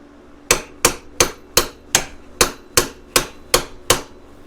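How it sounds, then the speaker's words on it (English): Eleven sharp metallic hammer strikes on a part of a Polaris Sportsman 700 ATV, evenly spaced at a steady rhythm, each a loud close ringing impact with a short decay. "let's see if we can whack this with a hammer"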